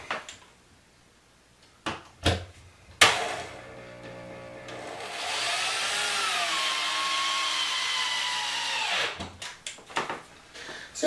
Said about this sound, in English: just grab your drill and put another screw in the wall.